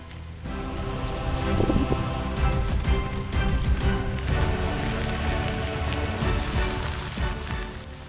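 Steady rain patters over a surface without pause, with scattered sharper drops and a low, rushing background underneath.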